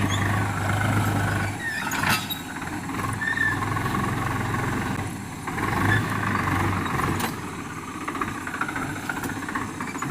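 A tractor engine running at night during farm work, a steady low rumble with a droning hum that dips and swells slightly, fairly close and continuous.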